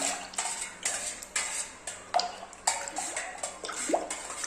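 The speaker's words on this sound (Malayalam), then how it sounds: "ഇനി ഇതെല്ലാം കൂടെ നമുക്ക് നന്നായിട്ടൊന്ന് മിക്സ് ചെയ്യാം" Rice and urad dal washing water being mixed in a container: soft sloshing and swishing with light knocks against the vessel, close and moderately quiet.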